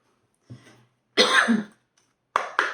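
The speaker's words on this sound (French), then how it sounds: "Désolée pour la toux." A few sharp coughs, close up: one short cough, a louder harsh one, then a quick double cough.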